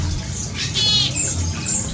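Rescued market birds chirp inside an aviary shelter, quick bright tweets and calls from several birds close by over a low background rumble.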